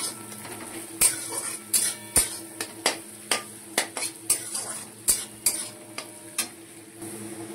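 A utensil stirs dried red chilies, bay leaf and crushed garlic frying in oil in a pan, with a steady sizzle and about a dozen sharp metal scrapes and knocks at an uneven pace, close up.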